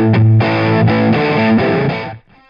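An electric guitar played through an iRig HD interface plays a few heavily distorted chords, loud and saturated, each strummed and sustained before cutting off abruptly at the end.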